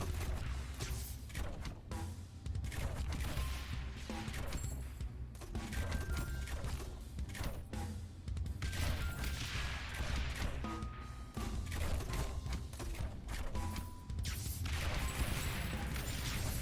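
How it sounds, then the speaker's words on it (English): Mortars fire and land repeatedly in the tower defense game Rogue Tower, producing a steady run of dull thuds and crunching impacts at moderate volume with brief gaps between them. "Dang, those mortars just, like, absolutely roasted them."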